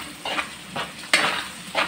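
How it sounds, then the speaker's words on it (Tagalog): Miswa noodles with patola and ground meat cooking in a pan, a soft steady sizzle with several scraping stirs at roughly half-second intervals, close and moderately loud, with no talking. "nagluluto ako ng miswang may patola. Ayan, sinahugan ko ng giniling."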